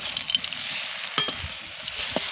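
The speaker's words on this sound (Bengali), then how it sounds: "আমগুলোকে 2 মিনিট মতন ভেজে নেব, এতে আমের যে কাঁচা ভাবটা আছে সেটা কিন্তু কেটে যাবে।" Raw green mango pieces sizzle steadily in a hot pan while a spoon stirs them, with a few soft scraping clicks over a low, continuous frying hiss.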